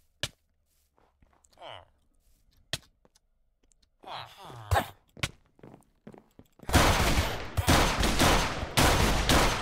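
Shotgun fire in a survival video game set in a nuclear winter bandit-base raid: sparse clicks and sharp single shots with quiet voices at first, then a loud rapid volley of gunfire in the final few seconds.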